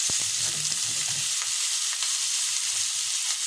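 Onions cooking in a pot with a steady broadband frying hiss and a few soft stirring scrapes near the start, close and continuous with no talking.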